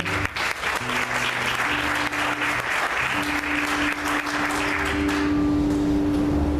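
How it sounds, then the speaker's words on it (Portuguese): A church congregation applauds together, producing sustained, loud, even clapping from many hands that fills the whole stretch, with faint sustained musical tones underneath. "Vamos aplaudir o Senhor com alegria."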